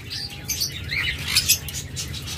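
Opaline budgerigars, an olive opaline pair among a breeder's caged pet birds, chirp and twitter continuously at close range, with light wing flutters and cage rustle underneath.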